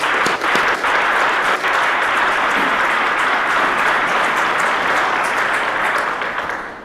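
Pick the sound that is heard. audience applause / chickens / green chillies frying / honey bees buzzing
audience applause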